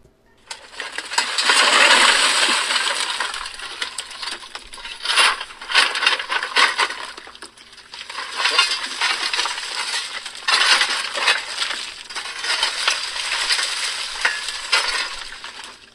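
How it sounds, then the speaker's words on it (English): Coal shoveled into a steam engine in a basement makes a steady run of gritty scraping and crunching strokes with clattering lumps, close and loud, each scoop repeating in an uneven rhythm. "Down in the basement, Fritz was shoveling coal into the steam machine."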